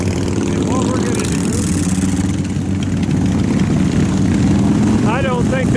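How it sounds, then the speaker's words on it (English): Loud Harley-Davidson motorcycle engine rumbling continuously on a road in Spearfish Canyon during Sturgis 2023, close and dominant, with wind noise and faint talk. "Pretty loud bike."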